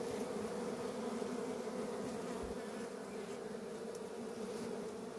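Dense, steady buzzing of bees swarming at a honey-filled hive in a rock crevice beside a stream, a continuous close drone with no talking.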